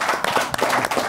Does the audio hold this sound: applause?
yes